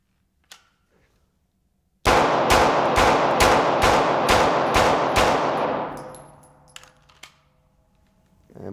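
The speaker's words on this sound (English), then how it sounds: "I'm actually going to try to just go ahead and rapid fire, spread it out around the vest more realistically." Rapid gunfire at a soft body armor vest on a range: about eight loud, evenly spaced shots in quick succession, booming close then trailing into echoing reverberation and faint clinks.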